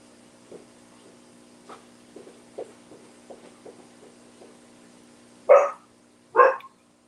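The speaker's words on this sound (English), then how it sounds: "I hear the dog" A dog barks twice outdoors in snow, two short sharp barks a second apart at moderate distance after faint intermittent thumps.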